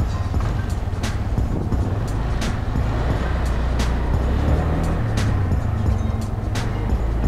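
Honda Scoopy scooter fitted with an aftermarket TPS sensor, riding stop-and-go: a steady low engine drone with road and wind rumble throughout, with occasional sharp ticks over the continuous hum.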